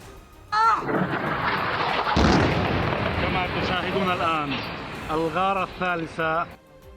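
A building in Abbasiya in Lebanon's Tyre area is destroyed by an Israeli strike. It sounds like a loud, rumbling blast with sharp bursts, with a narrator speaking over it throughout.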